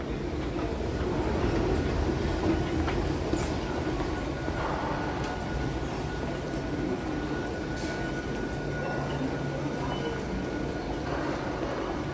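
A train rumbles through a station in Korea on the Airport Express line, a steady, moderately distant rolling roar with faint rail clatter that holds evenly throughout.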